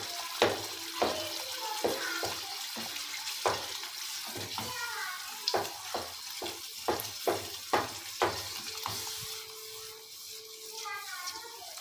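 Butter sizzles in a pan of butter chicken kharai as it is mixed in, a steady frying hiss with close spoon knocks and scrapes against the pan, while a person talks throughout.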